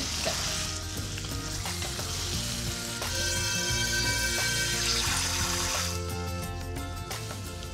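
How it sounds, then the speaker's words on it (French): A little water poured into a hot frying pan holding meat for macaroni, setting off a loud continuous sizzle and crackle that hisses steadily throughout, close and dense, with clinks of stirring underneath. "je vais aller mettre un petit peu d'eau dans ma poêle"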